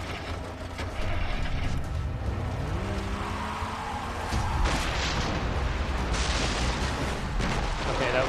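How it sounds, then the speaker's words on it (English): A grenade launcher blast in the Far Cry 3 video game: a loud, broad, rumbling explosion over continuous dense game noise, with a second surge of blast-like roar later in the clip. "Something exploded."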